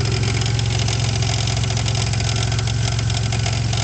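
A 1999 Buick LeSabre Custom sedan with a 3.8 V6 and a worn harmonic balancer idles close by, a loud, steady, even rumble with a fine rhythmic pulse and no talking.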